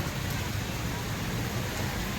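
Heavy rain pours down outdoors as a steady, dense, loud hiss and patter of drops on surfaces, unbroken from start to finish.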